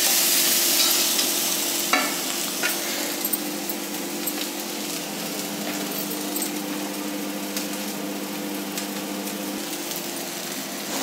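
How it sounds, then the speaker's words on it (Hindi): A stuffing mixture for stuffed pointed gourd fries in a pan with a continuous hissing sizzle, with occasional scrapes and stirring clicks over roughly eleven seconds and no talk. "तो इसमें हम लोग उसको डाल के फ्राई करते हैं।"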